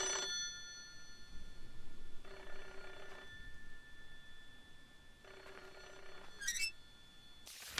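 A telephone rings in the horror game Hollow Cocoon, three evenly spaced ringing bursts with pauses between, faint over a low ambient background, followed by a short rising chime.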